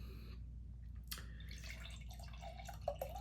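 Cupcake sweet red wine poured from a bottle into a glass, a soft trickling splash starting around the middle of the clip over a steady low background hum, with a brief clink near the end.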